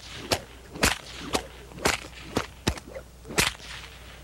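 Two bullwhips crack together in a sharp, loud series of about nine snaps, irregularly spaced, each a brief piercing crack with faint swishes between, no voices.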